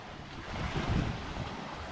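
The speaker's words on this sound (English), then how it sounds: "cool the way the waves are coming in" Waves rolling in on the Lake Geneva shore during a hike, a broad surf wash that swells to a peak near the middle, mixed with steady wind buffeting the microphone.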